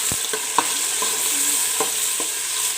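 Browned onions frying in a pan of pulao base as tomatoes and green chilies go in, a steady sizzle broken by several sharp spoon clinks and stirring scrapes, close and alone.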